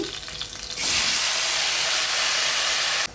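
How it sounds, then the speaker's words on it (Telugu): Mushrooms tipped into a hot pan of fried onions set off a sudden loud, steady sizzle and hiss that builds after a softer start and carries on without break, nearby and alone. "ఉల్లిపాయలు వేగినాయి కదండి. ఇప్పుడు మనము పుట్టగొడుగులు వేసుకుంటున్నాము."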